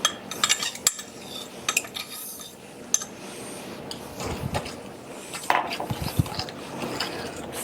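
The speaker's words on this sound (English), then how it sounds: "Now we're going to add our date mixture." A spoon clinks and scrapes in a bowl as date mixture is stirred into nut bread batter, with irregular metallic taps and soft scraping, fairly quiet and close, without talking.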